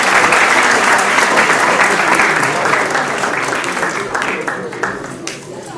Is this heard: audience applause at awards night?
yes